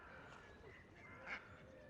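A few ducks honk faintly as they pass over water, a short soft call rising briefly above a quiet outdoor background.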